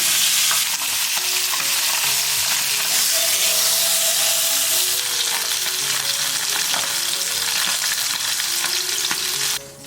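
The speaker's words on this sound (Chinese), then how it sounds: "平底锅热油，把鱼放进来煎。" Sea bass pieces frying in hot oil in a flat pan, a loud, dense, continuous sizzle and spatter close by, with faint clinks mixed in, cutting off abruptly at the end.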